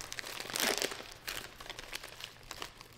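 Kitchen paper towel is torn open and crinkled close to the microphone, giving a loud papery rip followed by softer, irregular crackling and rustling.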